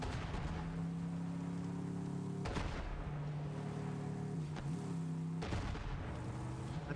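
Gunfire and explosions in Borderlands 3 co-op play, several heavy booming blasts over a dense, loud game soundtrack with sustained low tones.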